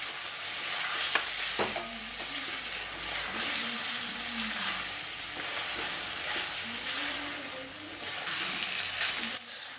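Spice paste with pointed gourd fries in a pan for a Bengali prawn curry as water is added and the mixture is stirred, giving continuous sizzling with repeated scraping and stirring strokes close by.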